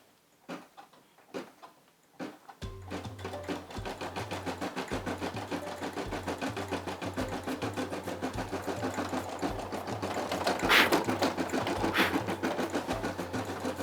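A Brother SE600 embroidery machine stitching a design, a fast steady mechanical whir with a rhythmic low thump, running continuously and loud after a few quiet seconds of small handling noises, with a brief louder jolt near the end.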